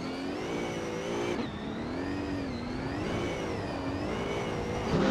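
A 2020 Aston Martin Valkyrie's engine whines in a racing video game, a high, continuous tone that rises and falls as the car accelerates and shifts, with a sharp gear change early on.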